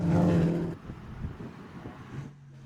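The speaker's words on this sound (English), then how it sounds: "there's definitely a big misfire in the Ginetta there in the V8" A Ginetta race car with a V8 engine misfiring at Kirkistown, a loud uneven engine burst that fades into a faint, irregular, sputtering rumble as the car moves away.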